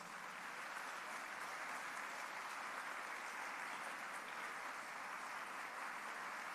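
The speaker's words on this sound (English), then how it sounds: "So please give yourselves a huge round of applause." Audience applause at the final round of an international commercial arbitration moot competition, a sustained, even wash of clapping from a large crowd, quite faint and distant, continuing steadily without talk.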